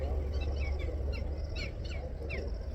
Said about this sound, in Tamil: எவ்வளோ பறவைகள் இருக்குது பாருங்கள் இந்த பகுதியில்